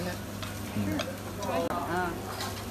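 Oil sizzles in a pan as food fries, a steady close crackle with stirring scrapes and faint background voices underneath.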